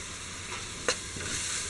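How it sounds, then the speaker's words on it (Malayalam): Onion and ginger garlic paste sautéing in a pan for a Kerala-style beef biryani, a continuous close sizzle with one sharp scrape or stir partway through, no voices. "ഇത് രണ്ടും കൂടെ ഒന്ന് നന്നായിട്ട് ഒരു ചെറിയ ബ്രൗൺ കളർ ആകുന്നവരെ നമുക്കൊന്ന് വഴറ്റിയെടുക്കാം"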